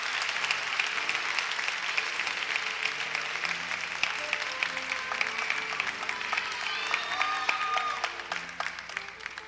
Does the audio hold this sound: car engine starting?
no